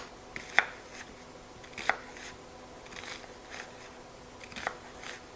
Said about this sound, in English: Cut your onion in half.